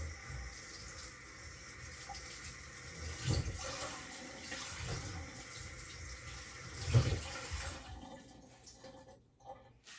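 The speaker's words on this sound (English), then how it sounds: "Right now I'm going to go wash my potatoes" Water from a kitchen tap runs steadily into a sink as potatoes are washed beneath it, with soft splashing and handling clunks throughout, before the flow cuts off near the end.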